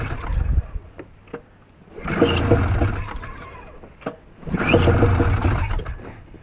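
A small engine pull-started without choke or throttle gives two loud bursts of rough, sputtering cranking, each a second or two long, close by, with fainter rattles and clicks between pulls.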